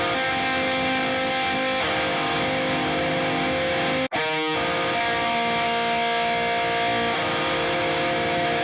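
Two distorted electric guitar chords drawn from the minor scale for a metal chorus ring out loud and sustained, the first held for about four seconds, then a brief cut before the second chord sustains to the end.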